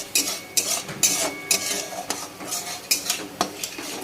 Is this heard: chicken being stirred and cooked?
yes